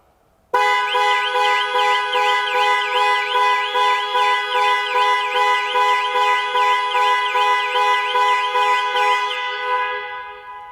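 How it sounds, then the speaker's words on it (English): A Jaguar F-PACE panic alarm blares loudly and continuously, its pulsing, warbling horn tone repeating rapidly before fading off at the end. "the horn will sound and the hazard lights will flash"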